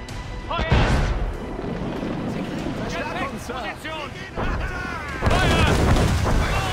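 Ship cannons firing in a naval battle in Assassin's Creed Rogue, several deep booming blasts amid constant shouting crew voices and battle noise, with a loud burst near the end.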